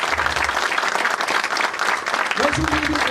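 A large audience breaks into sustained applause at a gathering in honour of Sachin, dense steady clapping filling the whole stretch, with a voice starting to speak over it near the end.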